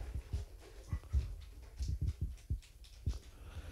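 A puppy at a mail call whimpers and snuffles close by in soft, irregular bursts with low thumps between them. No one talks.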